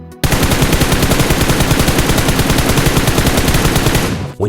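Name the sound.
gunfire while standing and zoomed in, from a video game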